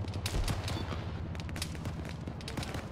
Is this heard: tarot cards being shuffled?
no